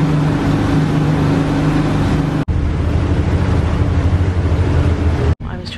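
A tour boat on Halong Bay rumbles with a steady low engine drone and a broadband wash of water and wind, loud and continuous with two brief cuts.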